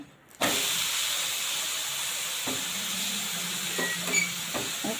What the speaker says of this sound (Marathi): मी स्लो गॅसवर चिला शेकवत आहे